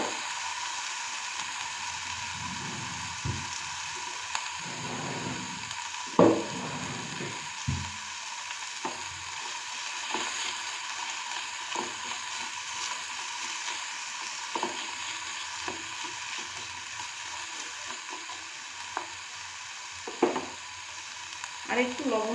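Chopped tomatoes and green chillies fry in a pan for suji upma, a steady close sizzle broken by scattered scraping stirs and soft clunks of a spatula against the pan over a long stretch.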